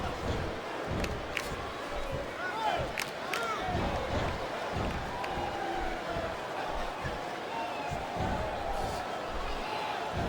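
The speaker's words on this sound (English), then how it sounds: "I cannot remember the last time I've seen a crowd this pumped up." A wrestling arena crowd at a WWE Survivor Series elimination match roars steadily, a dense sustained cheer with scattered shouts and thumps, faint and distant throughout.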